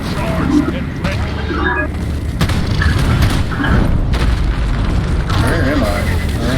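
Grenade blasts in a space-themed video game. Heavy rumbling booms roll through a dense, continuous mix of game noise, with voices speaking over the action.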